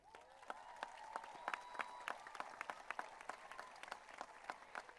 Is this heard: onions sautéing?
no